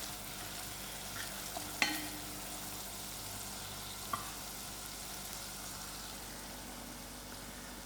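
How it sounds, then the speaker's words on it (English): Browned onions and masala frying in a pot for a sem and gadra beans dish, a low, even sizzle heard at a moderate distance with a couple of faint clinks over the steady hiss. "my onions are browning out. Then I add in my masala to it."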